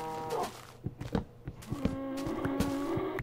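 Cattle mooing in Minecraft, several drawn-out bovine calls overlapping and repeating at close range over about three seconds, with no talking.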